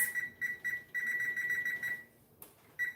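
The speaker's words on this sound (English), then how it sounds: "I'm going to go ahead and start a timer" Repeated high-pitched electronic beeps in quick bursts, pausing briefly then resuming, close and fairly quiet with no talking.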